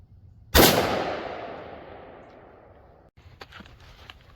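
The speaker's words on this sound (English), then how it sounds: "I may take 2 shots per, just in case if I take a bad shot" A single sharp, loud rifle shot from a Bushmaster HBAR cracks out at an outdoor range during zeroing, its long echo trailing away over a couple of seconds, then faint clicks and handling noises follow.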